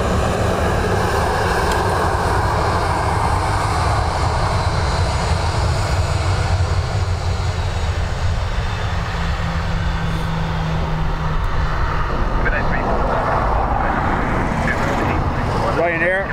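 Ryanair airliner on arrival at Dublin Airport, its jet engines making a loud, steady, broadband roar that fills the whole stretch with no letup.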